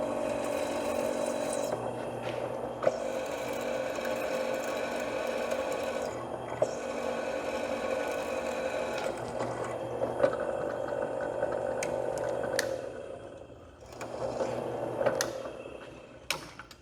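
A drill bit from a 115-piece Warrior set bores holes in aluminum, a steady close mechanical whir with faint ticking that carries on unbroken, dipping briefly before resuming near the end.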